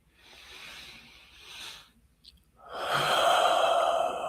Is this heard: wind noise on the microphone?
no